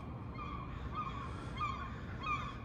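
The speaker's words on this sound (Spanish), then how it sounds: "Solo el canto de las gaviotas se escucha por aquí." Repeated nasal calls from gulls a little way off in downtown Seattle, rising every second or so over a steady wash of wind or surf.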